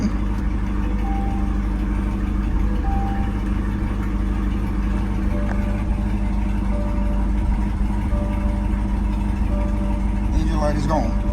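Car engine started with the start button and left running, a steady loud idle hum with low rumble, with a few faint beeping tones and a voice speaking over it.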